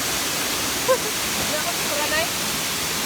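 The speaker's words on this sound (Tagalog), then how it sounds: "Here in Bugtong Batu Falls." Bugtong Bato waterfall in Tibiao, Antique, Philippines, roars in a loud, steady wash of falling water that fills the whole clip. Faint voices sit under the rush.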